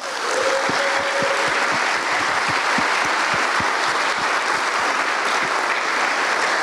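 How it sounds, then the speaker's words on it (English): Sustained audience applause for the crew and volunteers at the opening of the BruCON security conference, a dense, steady wash of many hands clapping that holds at a constant level throughout, with a brief voice early on. "So please give them a round of applause."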